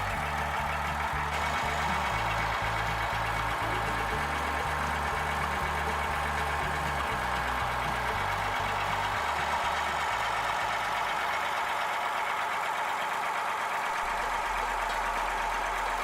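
A Massey tractor engine idles and chugs steadily at close range, with low, uneven pulsing as the machine is inched through very small movements beside a sawmill.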